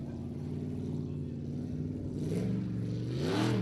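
A Formula Offroad buggy's engine drones and then revs sharply upward near the end of its run, its pitch climbing while the roar builds louder.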